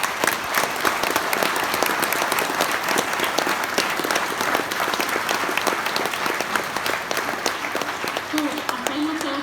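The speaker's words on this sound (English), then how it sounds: "I would like you all to give a round of applause to Chrissy's house." Sustained applause from a large crowd, steady and loud throughout, with dense clapping filling the whole stretch.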